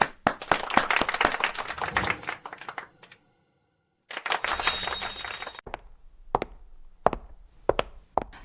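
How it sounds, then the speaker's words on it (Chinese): Office staff at a company meeting applaud a newly introduced assistant, a burst of dense clapping that stops, briefly resumes, then thins to a few scattered, sharp claps. "大家掌声欢迎！"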